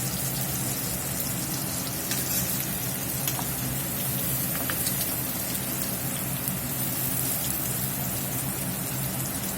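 Beef browning in tallow in a skillet sizzles steadily and close, a dense crackling hiss with small pops that goes on without a break and without any voice.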